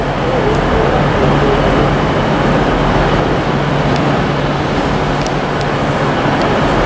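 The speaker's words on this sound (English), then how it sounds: "next service terminating now is going to be a terminating Northern services" Northern train unit 319363 at Liverpool Lime Street station, a continuous loud rumble and rolling hum with faint squeals, filling the whole stretch without breaks.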